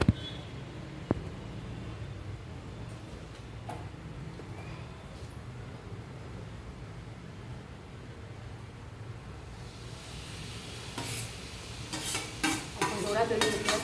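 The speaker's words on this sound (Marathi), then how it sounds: "आता पेरू व्यवस्थितमध्ये आपण शेकून घेऊ." Grated guava roasting in hot ghee while being stirred: a faint steady sizzle with soft scraping of the spoon, and a few louder clattering stirs near the end.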